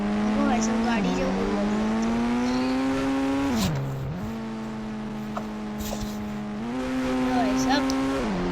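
A car in the Indian Bike Driving 3D video game runs with a loud engine whine that rises and dips in pitch as it revs, squeals and lands, with no talk over it.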